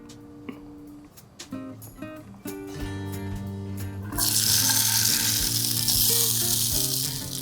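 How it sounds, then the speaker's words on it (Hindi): Gatte fry in desi ghee in a kadhai. Tonal background sounds come first, then a loud, steady sizzling hiss bursts in partway through and continues to the end. "गट्टों को फ्राई करने के लिए देसी घी।"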